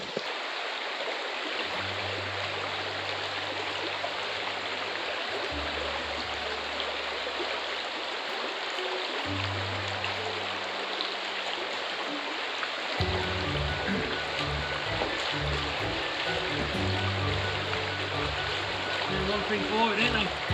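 A Lake District stream rushes steadily throughout as a solo backpacker wades across, the broad watery hiss constant and close, with low rumbling thuds of movement underneath.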